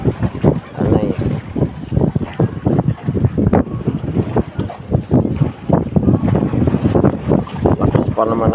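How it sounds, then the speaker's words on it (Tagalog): Strong wind buffets the microphone in loud, gusty roars, with the rush of water and waves around a small fishing boat at sea. "Lakas pa naman ang hangin."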